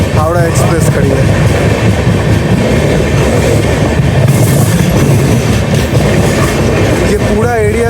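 The Tejas Rajdhani Express from Rajendra Nagar to New Delhi rolls along the rails near a coach maintenance yard, with steady loud rumbling and clickety-clack wheels, brief metallic squeals at the start and end.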